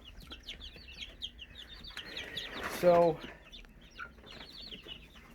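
Baby chicks, Ameraucana and Leghorn, peeping faintly in a cluster with high repeated chirps, a brief louder noise midway and a single spoken word.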